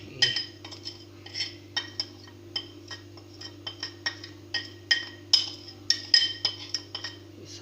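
A spoon clinks against a bowl while spices are mixed into chopped vegetables for pakoras, a steady series of light metallic taps over a low steady hum.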